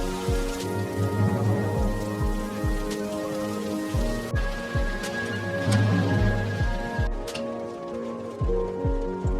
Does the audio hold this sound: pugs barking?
no